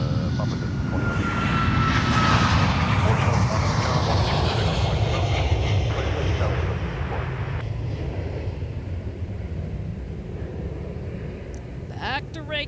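Icelandair airliner at MSP airport, a loud, broad engine roar that swells and holds steady as the jet passes close by, with faint radio chatter and voices underneath.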